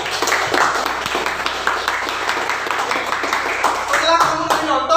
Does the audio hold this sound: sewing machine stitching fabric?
no